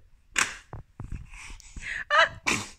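A person sneezes nearby indoors during a cardmaking session, with short sharp bursts of breath and noise, interspersed with quiet rustling and small clicks.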